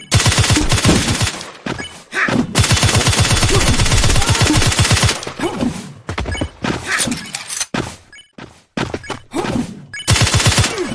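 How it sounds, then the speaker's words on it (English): Machine gun fire from the video game Bloodstorm comes in loud, dense, rapid bursts. Several long volleys are cut by brief gaps and shorter stuttering strings of shots, with no talking. "Machine gun."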